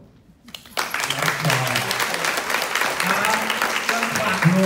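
A theatre audience at a Broadway song cabaret breaks into applause, starting abruptly after a quiet moment and holding a dense, steady clapping wash to the end.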